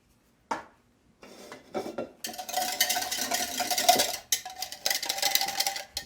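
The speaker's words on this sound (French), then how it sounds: "Donc, qu'on va mélanger au fouet" A whisk clinks and scrapes rapidly against a bowl while mixing colorant into melted melt-and-pour soap, beginning with a few isolated taps and building into continuous, close metallic rattling with brief pauses.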